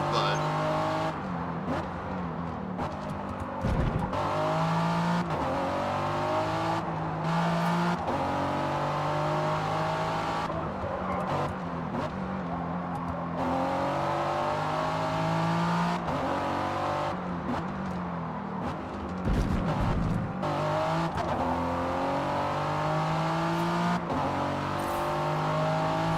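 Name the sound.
Ford car racing in the video game Forza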